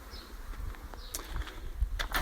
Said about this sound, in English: There's the bees, nice and busy.